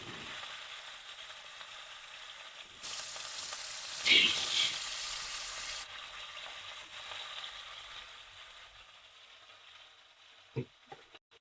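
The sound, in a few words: rohu fish frying in hot oil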